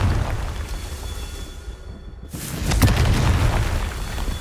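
A Confringo fire spell from the Hogwarts Legacy game bursts in a loud, broad explosion partway through, with a rumbling tail that stays heavy after the blast over a steady background game bed.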